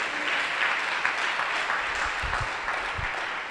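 A church congregation claps together in a dense, sustained round of applause, heard from within the crowd at moderate loudness for a few seconds.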